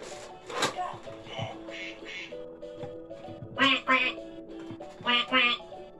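A woman leading a children's animal game imitates a duck with her voice, giving short nasal quacks in a couple of quick pairs, with speech around them and background chatter throughout.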